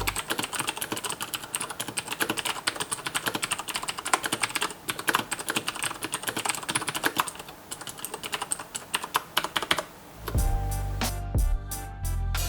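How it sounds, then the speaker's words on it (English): Rapid, loud clicky typing on a Tt eSPORTS Meka Pro mechanical keyboard with Cherry MX Blue switches, a dense stream of crisp keystrokes for about ten seconds, then a louder burst of closer clatter at the end. "Alright, so what does it sound like to type on?"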